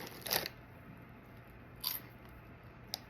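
Crunchy bites into General Mills Loaded cereal: two quick, crisp crunches about a second and a half apart, then a faint click, close but fairly quiet against a hushed room.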